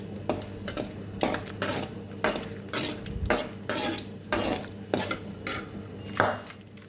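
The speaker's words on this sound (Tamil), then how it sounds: "இப்போ பார்த்தீங்கன்னா கடுகு நல்லா பொரிஞ்சு வருது." Mustard seeds spluttering in hot oil while cooking a tomato gravy, heard as loud, irregular popping and crackling bursts close up, repeating throughout with metallic pan clatter and no talk.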